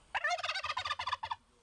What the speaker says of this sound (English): The farm also grows some turkeys organically.